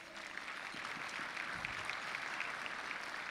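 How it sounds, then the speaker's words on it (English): Audience applause at a gala dinner and auction, a steady, dense wash of clapping from a large seated crowd, moderately distant and even throughout with no voices over it. "give yourselves a round of applause"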